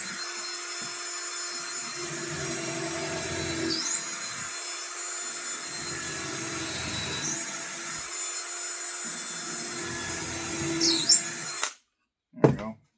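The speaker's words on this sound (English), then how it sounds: "so I don't don't drill a hole too far to the side where you can see the screw hole." Power drill boring a screw hole in wood, a sustained whirring whine with a few short pitch sweeps, running loud and close for most of the stretch before cutting off into a brief silence and a last blip.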